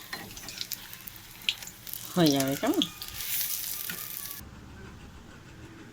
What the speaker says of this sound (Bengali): এই কটা আমি ভেজে তোমাদের সম্পূর্ণ রেডি করে দেখাবো কেমন